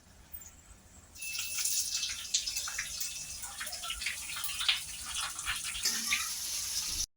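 Onion and garlic are dropped into hot oil already holding mustard seeds, curry leaves and dried chillies for sambhar, setting off a sudden, steady crackling sizzle that continues alone.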